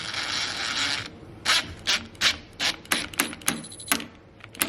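A DeWalt Atomic 20V MAX brushless compact 1/4-inch cordless impact driver drives 3-inch screws into wood. A steady whirring burst comes first, then a string of sharp, close mechanical clacks at an uneven rhythm.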